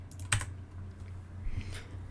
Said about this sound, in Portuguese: Então tu pode selecionar também no delete no teu